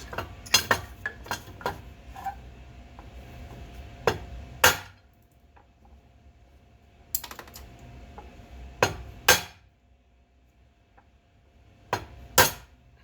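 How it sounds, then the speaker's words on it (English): A steel chisel struck with a hammer chips away at a stubborn piece: sharp metallic blows land singly and in short clusters, separated by quiet pauses, close and loud. "I think I'm gonna have to hit it with the chisel."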